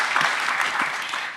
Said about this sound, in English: You don't have to applaud after every passage.